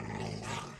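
Minecraft dogs from the Invasion modpack growling and snarling in one rough, continuous burst, close and fairly loud, lasting under a second with no talk over it.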